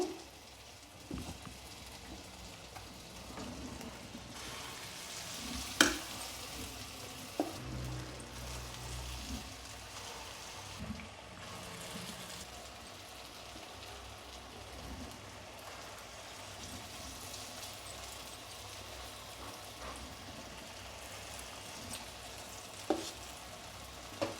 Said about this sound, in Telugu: ఇప్పుడు వేడి ఆయిల్లో వేసుకోవటమే నేను స్పూన్తో వేస్తున్నాను